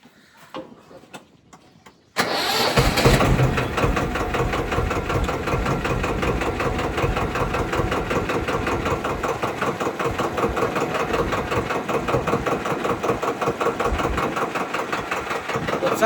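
Tractor engine, driven out to sow sorghum, cranks and catches after a couple of seconds of faint knocks, then settles into a steady, close, rhythmic diesel idle that carries on unbroken.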